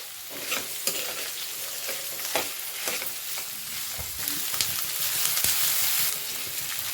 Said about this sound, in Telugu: మంచిగా చక్కగా కలుపుకుంటూ ఉండాలండి స్లోగా కలుపుతూనే ఉండాలి ఒక టూ మినిట్స్ వరకు